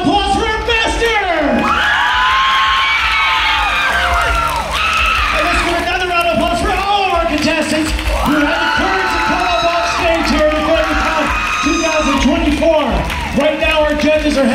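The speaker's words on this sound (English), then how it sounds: "let's give a big round of applause for our master!" A loud crowd at the Infinity Con 2024 cosplay contest cheers, whoops and shouts for a performer, with sustained noise and excited yells rising and falling throughout.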